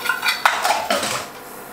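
Metal cheesemaking utensils, a ladle, palette knife and spoons, clinking and clattering against a pot as they go into boiling water, a few sharp knocks close by with no talk.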